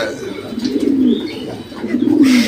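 Two rounds of low, throaty pigeon cooing, each a soft rolling burble, heard close with a faint chirp in the background.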